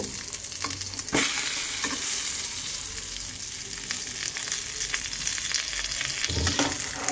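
Steady oil sizzling and crackling in a pan as egg and aubergine fry, with occasional clanks and stirring scrapes over the continuous hiss.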